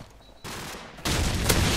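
Gunfire in the Call of Duty video game, two sudden bursts of rapid shooting, the second louder and closer, running dense and continuous to the end.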